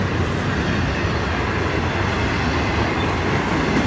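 A daily hotshot freight train, train 101 from Jacksonville and Bowden Yard, rumbles past close by with a loud, continuous roar of rattling cars and wheels on the rails.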